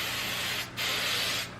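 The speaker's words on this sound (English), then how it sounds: "So here's the hairspray" Hairspray is sprayed onto hair in two long, steady hissing bursts separated by a brief pause, close and fairly loud.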